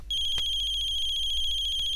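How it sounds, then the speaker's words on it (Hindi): A phone rings with a steady electronic warble, a fast pulsing tone repeating evenly and loud against a low hum, with no talking. "जरूर ये फोन समीर की दादी का होगा"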